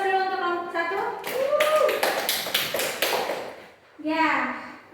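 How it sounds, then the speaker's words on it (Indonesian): A classroom of students claps in applause for a presenting group, a dense burst of hand claps under a teacher's voice, with talking before and after. "Beri aplaus dulu untuk kelompok 1."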